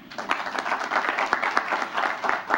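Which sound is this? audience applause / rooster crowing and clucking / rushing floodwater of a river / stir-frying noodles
audience applause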